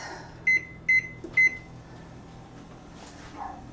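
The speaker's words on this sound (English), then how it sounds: "Set my timer for 20 minutes." A kitchen timer set while fries bake in the oven gives three short, loud electronic beeps close by in quick succession, then falls quiet.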